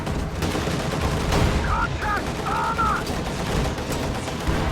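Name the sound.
anti-tank guns firing at a Panther tank in a video game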